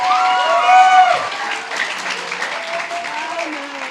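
A church congregation applauds as a full crowd at close range. The clapping builds briefly and then carries on as a steady wash, with a voice and sustained tones running underneath.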